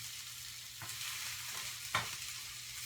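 Onion sautéing in a hot pan gives a steady, soft sizzle, broken by two brief stirring scrapes, heard up close with no voices.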